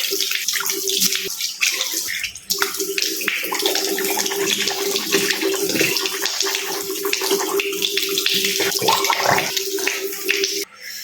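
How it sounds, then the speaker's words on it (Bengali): Tap water runs steadily into a sink during face washing at home, a continuous close splashing hiss with a faint tonal hum underneath, uninterrupted for the whole stretch and no talking. "আমার মুখ ধোয়া শেষ"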